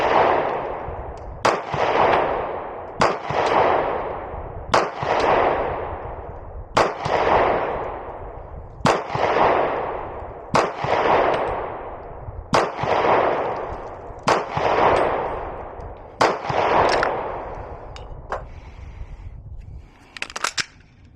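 Sig P250 pistol in .40 S&W firing a long string of about twelve sharp, loud gunshots at a slow, fairly even pace, each shot followed by a brief ringing decay.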